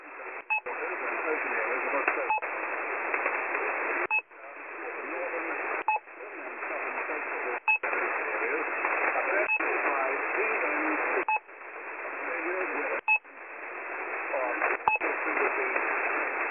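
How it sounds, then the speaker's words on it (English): Russian shortwave radio drop signal interfering with another station: a steady band of hissy, tonal radio noise broken every couple of seconds by short clicks and brief gaps, faint and continuous throughout. "this frequency is still being used to send the drop, but does seem to be interfering with another station"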